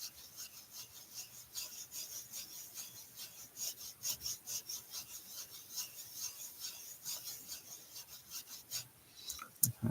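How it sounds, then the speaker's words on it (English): Distress ink rubbed through a craft stencil, a soft continuous scratchy rasping of repeated short strokes, close and fairly quiet, with no talking. "And you just rub through your stencil."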